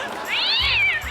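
A cat gives a single drawn-out meow that rises and falls in pitch, clear and close, with low background noise from a lively comedy stage setting.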